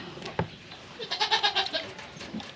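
A farm goat lets out one wavering, pulsing bleat from fairly close by, amid quiet background noise during milking.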